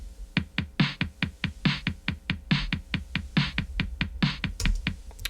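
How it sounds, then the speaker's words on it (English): An Oberheim DMX drum machine pattern with a crisp, tight rhythm of sharp clicky hits and a regularly recurring snare-like burst, looping steadily at a moderate level with no voices. "There's also a drum machine in the cassette sections. It's a Oberheim DMX"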